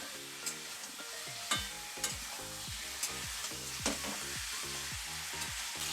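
Green chilies sautéing in a pan for a spinach dish, a continuous bright sizzle under rhythmic spatula strokes scraping and knocking the pan about twice a second, close and steady.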